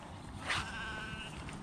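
A sheep bleats once in an outdoor field, a short wavering cry heard at moderate distance over steady wind and background noise.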